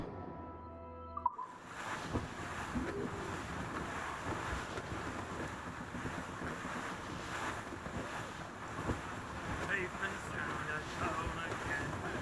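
Broad, steady wind rush and ocean surf while sailing through a squall at sea in Assassin's Creed Rogue, loud and continuous after a brief quieter start, with muffled voices under the storm.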